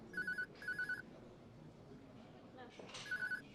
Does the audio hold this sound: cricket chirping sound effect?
no